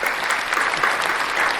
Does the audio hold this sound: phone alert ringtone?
no